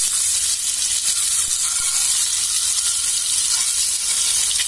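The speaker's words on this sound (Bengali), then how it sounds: "ডিম হলুদ করে ভেজে নিব" Eggs fry with turmeric in hot oil, giving a steady, close, crackling sizzle that stays bright and even without any talk.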